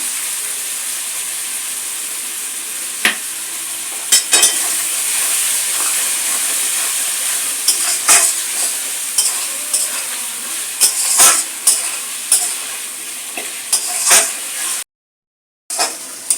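Chicken gizzards stir-fry with a little milk and water in a pan, a steady close sizzle and hiss broken by scattered sharp scrapes and knocks of the spatula, with a brief silent gap near the end.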